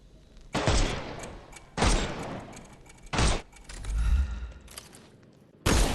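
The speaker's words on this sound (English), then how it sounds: "Shoot off their armour." Gunfire aimed at enemy armour in the Sherlock Holmes Chapter 1 video game: four loud, sharp bursts a second or more apart, with a lower rumbling stretch between the third and fourth.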